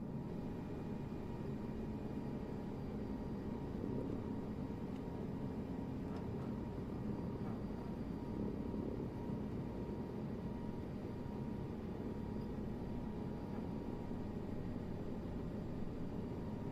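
A Cabri helicopter hovers low about two feet up during a training flight in Germany, a steady loud engine and rotor drone heard from inside the cabin, unchanging for the whole stretch.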